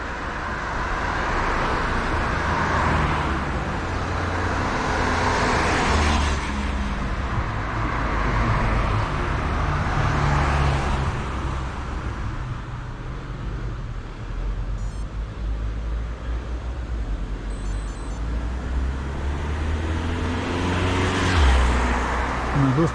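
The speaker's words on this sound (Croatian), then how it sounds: "Dosta prometa." Road traffic overtakes a cyclist on a ride through Germany and Austria. Cars swell in and fade out one after another under constant wind rush, with a faint beep in the mix and brief talk.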